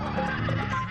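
A horse whinnies in a drawn-out, wavering neigh, loud and close, filling the short moment on its own.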